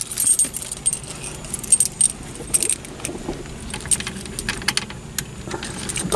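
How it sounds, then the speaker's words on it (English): Car keys for a Plymouth Barracuda jangle and clink in repeated bursts of metallic rattling, fairly close and steady throughout, with no voices. "Chrysler and their upside down keys."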